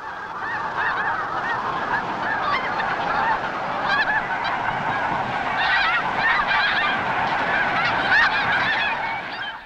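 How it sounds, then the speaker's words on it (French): Large flocks of snow geese, white-fronted geese, Ross's geese and Canada geese honk continuously, a dense, loud chorus of overlapping calls filling the air with no pause. "Des oies blanches, des oies à front blanc, des oies de Ross, des bernaches canadiennes."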